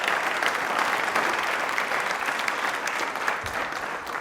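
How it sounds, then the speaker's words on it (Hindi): Sustained, loud audience applause from a studio crowd on a Hindi-language television quiz show, dense and steady throughout with no voices over it. "तालियां एक बार जोरदार हो जाएं प्लीज"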